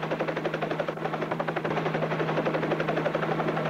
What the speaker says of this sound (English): We're in a helicopter right now.